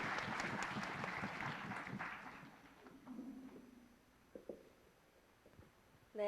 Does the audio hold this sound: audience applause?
yes